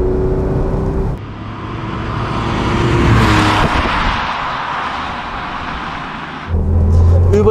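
A 1966 Porsche 911 SWB in original condition runs with a loud, close engine note, swelling as revs rise through the middle and dropping back, then picking up again at the end, with no talk over it.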